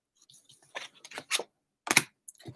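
Light Seers Tarot cards are shuffled by hand in crisp, irregular bursts of riffling and snapping, close up with quiet pauses between.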